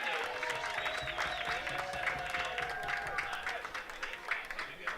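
A crowd at a boys' soccer game applauds in a steady, fairly loud clatter of clapping with a few whistles, while commentators talk over it.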